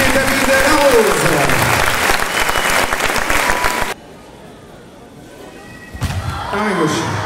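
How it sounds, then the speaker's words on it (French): Audience applause for a judo demonstration by national team judoka at a club event in Amiens, loud sustained clapping that cuts off abruptly, then resumes after a brief quiet pause, with voices mixed in. "Vous les applaudir bien fort, Sarah Léonie Sizik et David Larose."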